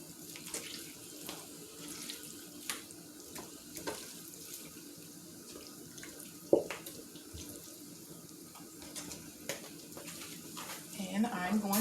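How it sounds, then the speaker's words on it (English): Chitterlings being rinsed under a running kitchen tap, a steady stream of water splashing into a sink with occasional knocks and clatters, fairly close, with some faint talk in the background. "I'm going to go rinse them one more time"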